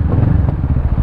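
A Bristol Bobber 700 motorcycle engine with its stock exhaust pipe idles close by, a loud, low, rhythmic rumble with a slightly rough, throbbing pulse.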